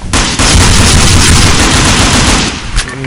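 Loud, dense video game gunfire fills the whole stretch, rapid automatic bursts blending into a continuous close roar with no talk over it.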